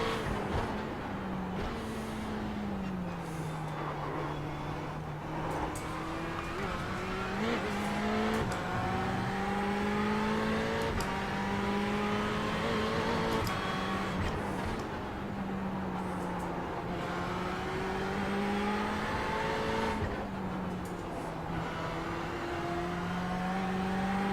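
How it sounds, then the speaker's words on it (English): GT3 race car engine on the Nürburgring in iRacing, a steady droning engine note that rises and falls through shifts, revving up and dropping back repeatedly as the car laps, loud and continuous with no talking. "The GT3 car sounds angrier than the GTE for sure, even though it's not as fast."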